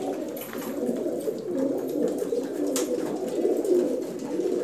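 A pigeon coos steadily with low, throaty murmuring calls, close and continuous amid a faint background hum.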